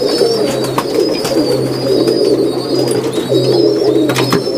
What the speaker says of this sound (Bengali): এটা একটা গোল্ডেন কবুতর বাট মেকিং কবুতর